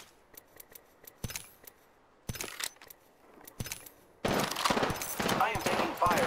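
Bursts of rapid gunfire in the battle royale shooter Apex Legends: sharp separate shots at first, then a loud, dense sustained volley near the end.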